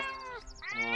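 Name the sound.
cat meowing in cartoon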